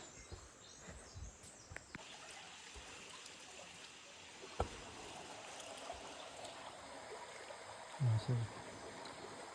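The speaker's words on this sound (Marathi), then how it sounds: "फक्त पाण्याचा आवाज येता आणि कसलाच आवाज नाही," Water flows quietly near Raghaveshwar math by the Hiranyakeshi river, a faint, steady trickling stream in a calm outdoor setting, with a few distant bird calls and brief soft knocks.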